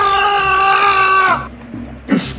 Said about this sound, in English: The doctor screams again